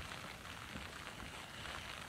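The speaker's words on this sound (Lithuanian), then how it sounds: "lyja" Steady rain falling outdoors during the first feeder fishing session of the 2023 season, with rivers running high; a continuous broadband hiss throughout, moderately loud and even, with no voices.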